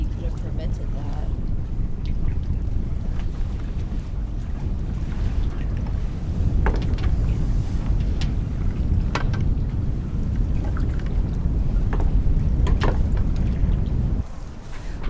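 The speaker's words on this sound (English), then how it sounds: "This wind just will not stop." Strong storm wind buffets a damaged catamaran at sea, a steady heavy roar of gusts and microphone rumble with flapping and creaking, unbroken for the whole stretch until it eases slightly at the end.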